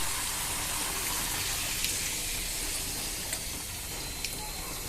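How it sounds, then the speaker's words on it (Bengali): Homemade potato chips frying crisp in hot oil: a dense, continuous hissing sizzle, close and steady throughout, with a few tiny pops on top and no talking. "এখন গরম তেলে ভেজে নিচ্ছি মুচমুচা করে।"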